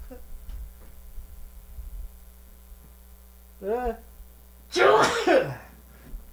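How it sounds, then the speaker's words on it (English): Over a steady electrical hum, a brief vocal sound rises, then a single loud, close sneeze bursts out near the end. "bring myself up so I can sneeze"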